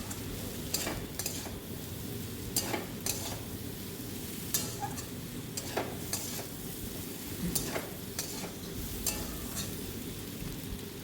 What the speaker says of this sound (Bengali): এবার ভালো করে আমি ওলটা কষিয়ে নিচ্ছি